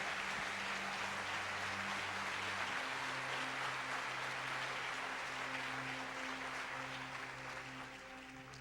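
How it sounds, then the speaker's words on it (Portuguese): A church congregation applauding during a service, a broad wash of many hands clapping together, sustained and fairly distant, with steady sustained instrumental tones beneath it. "Aplauda o Senhor"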